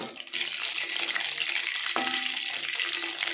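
Chicken 65 pieces sizzle steadily in hot oil as they are turned over one by one, a continuous bright frying hiss with a brief clink or scrape partway through.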